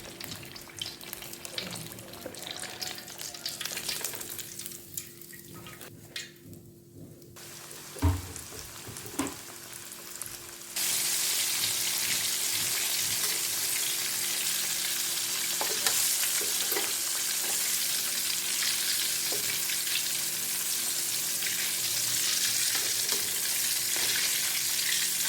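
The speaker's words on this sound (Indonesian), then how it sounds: "Yang saya goreng setengah matang." Chicken for Indonesian ayam geprek frying half-done in hot oil, a steady loud sizzle and crackle that swells to a dense, continuous roar partway through, with occasional clinks and stirring noises and no talk.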